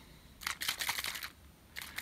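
An aerosol can of sealant for an acrylic painting is shaken hard, giving quick bursts of rattling, first a rapid run of shakes, then a pause and a few more near the end, close and fairly quiet.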